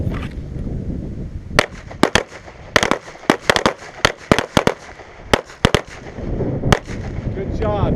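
Pistol shots fired one-handed during a defensive shooting drill, a rapid series of sharp, loud cracks in irregular bursts, with an instructor's voice and range noise between them.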